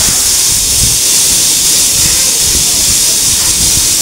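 Loud, steady hiss of steam from a pressure cooker cooking dal in a home kitchen, a continuous close-up rushing noise with no break.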